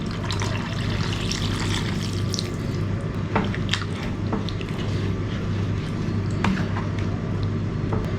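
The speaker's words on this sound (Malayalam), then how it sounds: "ചിക്കൻ വേവാൻ ആവശ്യമായ വെള്ളം ഒഴിച്ചു കൊടുക്കാം." Water is poured into a pan of kadai chicken, giving a continuous splashing trickle with small drips and clinks. The sound is close and moderate in loudness, with no talk.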